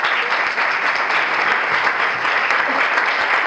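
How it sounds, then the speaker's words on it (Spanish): Strong, steady audience applause at a beauty pageant for Reina de Turismo Veracruz 2015, a dense wash of clapping from a large crowd with no voices breaking through. "Un fuerte aplauso para Grecia."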